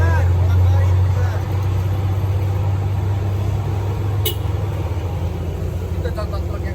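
A loaded truck carrying vegetables, not overloaded, grinds along the winding Sitinjau Lauik mountain road, its engine a steady, loud low drone throughout, with people talking nearby.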